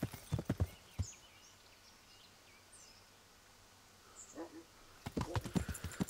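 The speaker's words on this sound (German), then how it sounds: "Wir reiten weiter der See entlang." Horse hooves clip-clop in bursts as a rider travels along a lakeside in Kingdom Come: Deliverance, with a quiet stretch of faint birdsong and insects in between.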